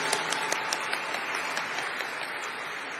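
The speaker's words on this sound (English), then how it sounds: "Let's have a huge round of applause for both of them" At the National Stock Exchange listing ceremony for Waaree Energies, an audience gives a steady round of applause. It is fairly soft and distant, with a few sharper individual claps standing out.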